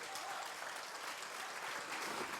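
A church congregation claps together in a soft, distant wash of applause, dense and continuous over a couple of seconds.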